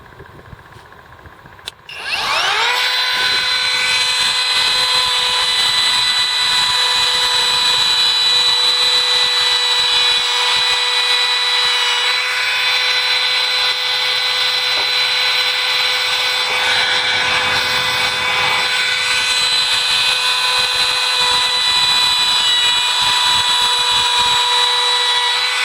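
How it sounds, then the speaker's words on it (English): A Kobalt 24V MAX brushless cordless router, model KR 124B-03, with a new carbide-tipped bit, spins up and cuts a roundover at speed setting 6, a steady loud high-pitched whine held for over twenty seconds. "You're just cutting a little round over, but brand new blade, carbide tip"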